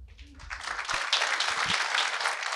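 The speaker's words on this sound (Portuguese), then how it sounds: "A plateia aplaude efusivamente o encerramento da palestra." An audience in a theater applauds enthusiastically at the close of a talk, a dense, steady wash of clapping that swells quickly and holds loud and full throughout.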